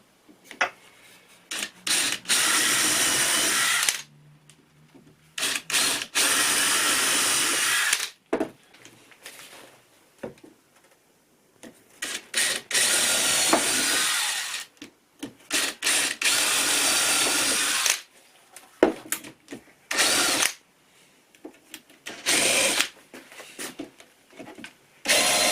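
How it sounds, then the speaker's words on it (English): A power drill with a 5mm bit bores holes into a wall for screws, loud high whining bursts of several seconds each, separated by short pauses, close by. "I'm going to put a 5mm drill bit in here for the holes"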